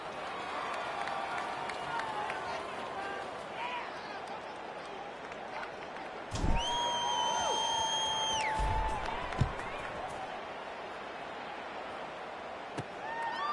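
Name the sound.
football stadium crowd during kickoff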